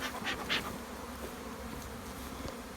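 Honeybees hum around a nuc box in a beekeeping yard, a steady close drone with a few louder individual buzzes passing near at the start, no talking.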